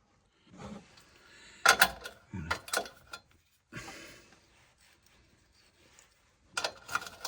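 Ratchet wrench tightening 13mm suspension bolts on the front nearside of a Land Rover Defender under restoration, heard as a few short bursts of close mechanical clicking separated by pauses.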